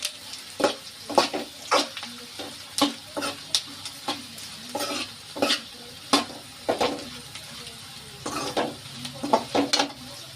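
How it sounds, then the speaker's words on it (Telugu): Onions frying for bitter gourd (kakarakaya) curry are stirred in a pan, with rhythmic scraping strokes of a spoon against the pan over a soft steady sizzle, close up and without talking. "ఉల్లిపాయలు కూడా చక్కగా ఏగుతాయి ఇప్పుడు సమానంగా"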